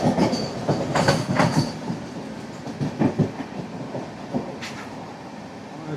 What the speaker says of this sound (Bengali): আমাদের ট্রেন এগিয়ে চলতে দুর্গাপুরের দিকে